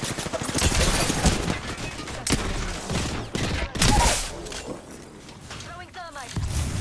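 Rapid bursts of automatic gunfire in an Apex Legends match crackle loudly over several seconds, mixed with game effects and voiced character callouts.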